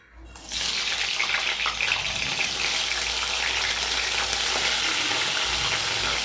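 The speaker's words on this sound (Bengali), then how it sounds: "এবার তেলটা গরম হয়ে এসছে, এবার আমি মাছগুলোকে ভেজে নেব।" Tiger prawns frying in hot mustard oil, a steady, loud, close sizzle that starts abruptly as they hit the pan and holds without letup; no one speaks.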